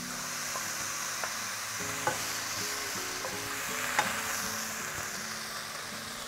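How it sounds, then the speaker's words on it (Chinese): Cauliflower stir-fried in a wok over high heat, continuous dry sizzling with repeated scraping spatula strokes and a few sharp metallic clinks, close and without speech. "快速翻炒一下，最后把干辣椒跟葱绿放进来"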